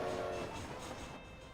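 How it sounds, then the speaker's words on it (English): Train in Red Dead Redemption starting to pull away from a station, a loud rumbling mechanical drone with a steady tonal hum, no talking. "Train's about to leave."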